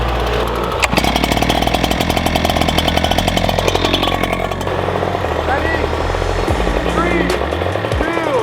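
Husqvarna backpack leaf blower engine pulled to life with a sharp start, then a loud, steady two-stroke drone that holds close and constant, with a pitch change near the end.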